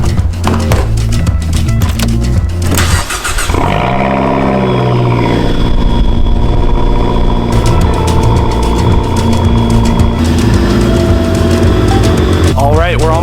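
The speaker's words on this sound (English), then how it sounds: "here's a cold start on a 2017 Fiat 500 Abarth." A 2017 Fiat 500 Abarth engine starting from cold: a short starter crank catches into a loud, close, elevated idle that settles and holds steady with a raspy exhaust tone.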